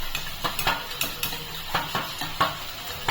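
A utensil beats and mixes an egg and spice marinade for meat in a bowl, producing a steady run of close clinks and scrapes against the dish, with no speech.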